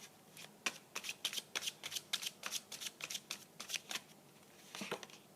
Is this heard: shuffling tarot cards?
yes